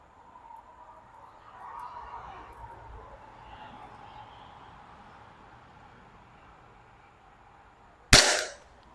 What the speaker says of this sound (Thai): มาดูกันว่ามันจะยิงโดนไหมนะครับ ระยะ 15 เมตร นะครับ